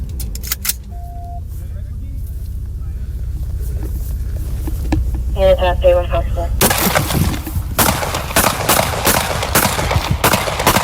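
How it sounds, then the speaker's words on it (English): Rifle gunfire rings out in a police shootout in 2020: a rapid, loud volley of sharp shots erupts after tense shouting and radio chatter, the cracks coming in quick succession under continued voices. "Shots fired, he's still up. 62 shots fired."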